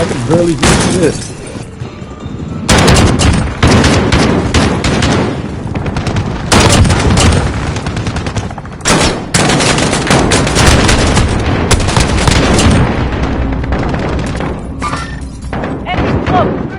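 Rapid bursts of gunfire and heavy thuds from a PlayStation 4 shooter game run almost continuously, loud and dense, with a player talking over the combat.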